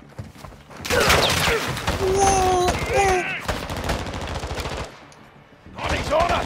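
Automatic gunfire in Call of Duty Modern Warfare, set in Las Almas: rapid, loud bursts of shots repeating through most of the clip, with a short lull before more firing, over game sounds and background effects.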